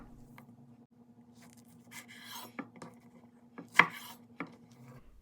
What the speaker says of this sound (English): I'm going to be slicing some strawberries and cutting them into fourths